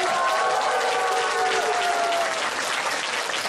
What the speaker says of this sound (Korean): 그러면 좋으신 만큼 박수!